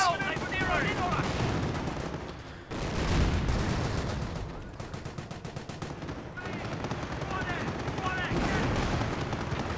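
Rapid bursts of machine-gun and rifle fire from German Panzer Elite units in the strategy game Company of Heroes, dense and continuous over a rumbling battle backdrop, with someone commentating throughout.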